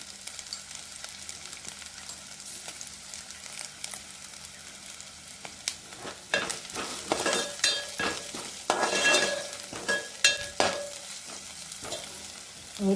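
Onion and turmeric sautéing in a pan while cooking a spicy prawn curry: a soft background sizzle that turns busy halfway through, with loud, rhythmic scrapes and clatters of a spoon stirring against the pan, close by.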